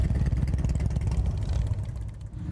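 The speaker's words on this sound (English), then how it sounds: "As you can hear behind me, the motorcycle's coming in." Motorcycles arriving for a charity ride event at Glendale Community College make a continuous low, rumbling engine drone that stays close and steady throughout.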